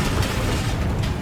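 A Bombarda spell explodes in the video game Hogwarts Legacy, a loud, heavy blast with a deep rumbling boom that fills the whole moment.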